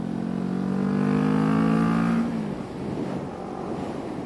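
Motorcycle being ridden on the road, a close engine drone that holds steady, rises briefly, then eases off into wind and road rumble, with no talking.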